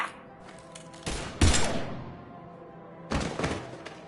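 Gunfire from a firefight in the video game Mass Effect Legendary Edition, two loud bursts of shots around a second and a half apart with a further burst near the end, over a low game ambience.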